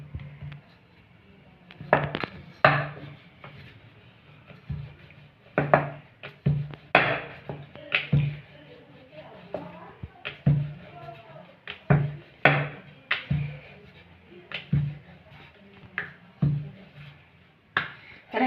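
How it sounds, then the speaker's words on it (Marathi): Pumpkin gharge dough balls rolled flat with a rolling pin on a board: a steady series of soft knocks and thumps, some sharper clacks, in an irregular rhythm at close range, with occasional quiet talk in the background. "तर आता लाटून घेऊया."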